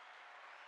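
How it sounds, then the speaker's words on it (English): Applause from a small gathering at a poetry-themed talk show, a steady dense wash of clapping that fills the whole moment without pause, fairly quiet and distant. "That's your applause right there"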